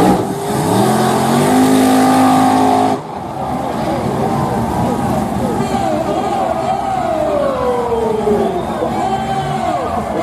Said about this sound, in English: Mustang with a turbo.